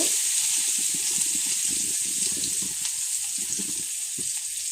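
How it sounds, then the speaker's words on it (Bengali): Drumstick pieces fry in leftover oil in a wok with a steady, loud, close hiss and sizzle that runs throughout, mixed with soft bubbling crackles. "উচ্ছে ভাজা করে কড়াতে যেই তেলটা ছিল সেই তেলের মধ্যে আমি সজনে ডাঁটাগুলি দিয়ে দিচ্ছি। এগুলি একটু ভেজে নেব।"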